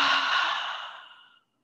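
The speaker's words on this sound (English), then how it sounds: "Exhaling out through the mouth." One long exhale pushed out through the mouth during a yin yoga breathing practice, close and breathy, fading gradually to silence.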